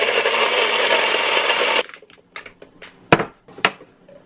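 Ice cubes are grabbed and dropped into a cup, heard as a few sharp, close clatters and knocks after a loud steady whir stops.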